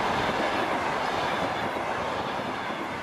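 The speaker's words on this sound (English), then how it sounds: "Now the train is rolling through the sparsely vegetated desert of Kizilqum in southern Uzbekistan." The Orient Silk Road Express train rolls through desert in southern Uzbekistan, a steady, broadband rumble of wheels on track with faint rhythmic clatter, close and continuous without voices.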